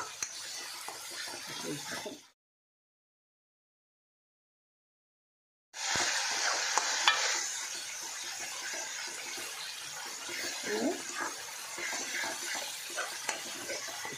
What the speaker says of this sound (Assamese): পিঁয়াজখিনি ভালকৈ ভাজি লওঁ